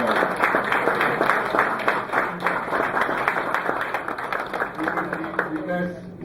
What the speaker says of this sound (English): I think they deserve a round of applause for all the things they've done.